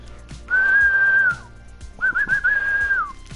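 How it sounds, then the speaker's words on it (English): A person whistles two sustained tones, each held for about a second with a brief warble, separated by a short pause. The whistling is loud and close, with no talk over it. "I'm gonna be whistling."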